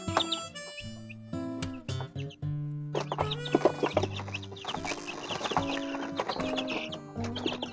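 A flock of stunted or runted chickens cluck steadily and loudly at close range, with overlapping calls and a few higher squawks throughout, alone without talk.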